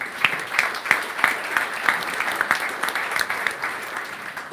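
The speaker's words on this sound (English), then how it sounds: "Please, a warm applause for Dr." A conference audience gives a speaker warm, loud applause, close and dense, with distinct rhythmic claps from nearby hands standing out over the crowd's sustained clapping.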